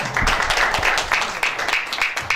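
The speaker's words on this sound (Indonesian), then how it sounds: "Tepuk tangan kembali untuk dua kandidat." An audience at an alumni candidates' discussion event applauds the two candidates, a loud continuous crowd clapping that runs through the whole stretch, with faint voices mixed into the wash.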